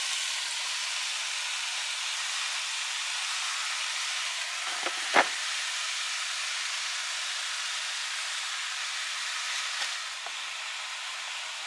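Onion and pepper sautéing in a pan for chili, a steady soft sizzle and hiss close by, with a brief clink or stir near the middle and no voices.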